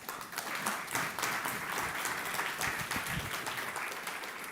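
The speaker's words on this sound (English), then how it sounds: "Please give them a round of applause." An audience at a public health panel event in North Carolina claps steadily throughout, a dense, moderately distant wash of applause with no break.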